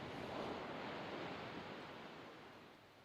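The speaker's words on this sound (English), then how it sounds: "we're sat here just out of touch of the waves coming in" Soft, distant surf washes in as a broad hiss that swells and then slowly fades away, quiet and without voices.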